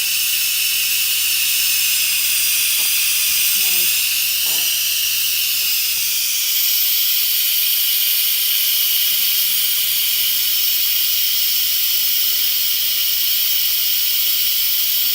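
An Instant Pot pressure cooking potatoes hisses steam loudly and continuously, a steady, close-up rush that barely changes over the whole stretch, with a few faint clicks and a brief dip in low rumble midway.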